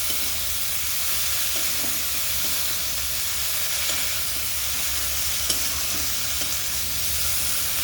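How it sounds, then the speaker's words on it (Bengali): Food frying and being stirred in a pan, a continuous bright sizzle with the occasional scrape of a spoon, steady and close, with no one talking. "এবার একটু ভেজে ভাজা ভাজা করে নিই"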